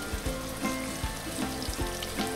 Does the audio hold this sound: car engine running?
no